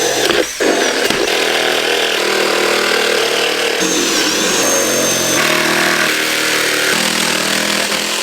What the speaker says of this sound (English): for the outlet cutouts, I'm just using a simple hand drill and a jigsaw